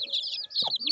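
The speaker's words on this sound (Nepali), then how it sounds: "कुखुराको चल्ला" Chicken chicks give rapid high-pitched peeping cheeps, close and clear over about a second, with a brief low cluck in the middle.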